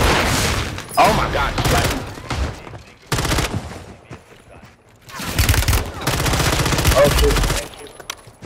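Heavy gunfire from a big gun in a video game, loud close bursts of rapid shots that stop and restart several times, with a player exclaiming between them.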